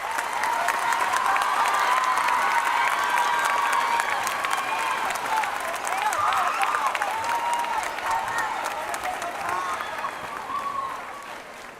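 Long, steady applause with some cheering from a crowd at a school moving-up day ceremony for student speakers, muffled and slightly distant, with voices mixed in.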